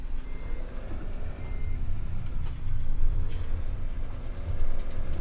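A tractor in Farming Simulator 17 sounds a steady series of reversing beeps over a low engine rumble, fairly close and clear, with no talking.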